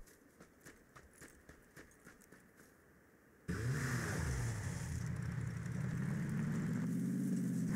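Dacia car engine in the video game PUBG starts up abruptly after rhythmic clip-clop-like taps, then drones loud and steady with a rising revving tone as the car pulls away, no talk over it.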